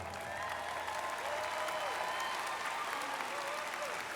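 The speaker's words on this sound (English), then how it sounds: "Let's give Dr. Christensen another round of applause" Sustained audience applause fills a commencement ceremony hall at Daytona State College, a dense steady clapping from a large crowd, with a faint voice briefly heard beneath it.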